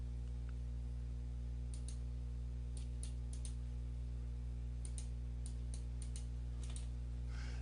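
Typing commands on a computer keyboard while drafting in AutoCAD: scattered bursts of light, close key taps, some in quick pairs and triplets, over a steady low electrical hum.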